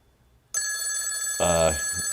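A telephone rings indoors, a steady electronic bell tone starting abruptly after a short silence and continuing loud and close, with a brief burst of voice overlapping partway through.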